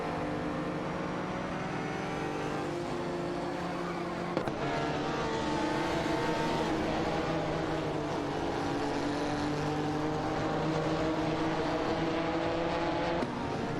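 Race cars in an AI racing video game drone steadily, with layered engine whine sustained throughout at a constant, moderate level and no talk.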